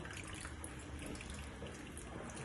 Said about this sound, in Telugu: ఇప్పుడు మనము పాలు పోసుకుందాము